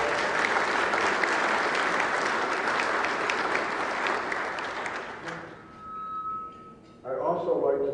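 Applause from the audience at a ceremonial gathering, with a sustained round of crowd clapping that fades out after about five seconds, then faint room sounds and a brief murmur near the end.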